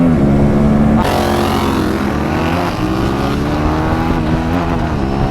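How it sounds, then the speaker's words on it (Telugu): Loud exhaust of an Aprilia RS 457 motorcycle, a buzzy droning note that climbs as the engine revs, with a sudden jump in pitch and intensity about a second in, running continuously close to the listener. "నెక్స్ట్ లెవెల్ ఉంది దీని ఎగ్జాస్ట్ లౌడ్నెస్ అయితే."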